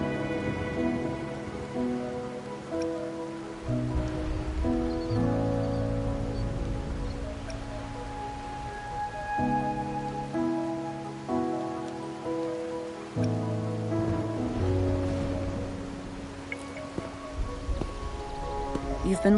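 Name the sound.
rain at night in video game Wuthering Waves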